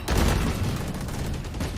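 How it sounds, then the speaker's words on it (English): Rapid bursts of gunfire from Valorant pistols, heavy Sheriff fire during a VCT Champions Istanbul 2022 match on the Ascent map, loud, dense and continuous throughout with no voices. "That's a lot of shooting they can hear going on."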